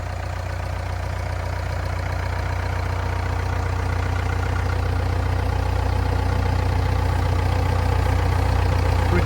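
A 2005 Renault Trafic 2.5 dCi diesel van engine idles loudly and close, a constant low rumble with a faint rhythmic knock running through it.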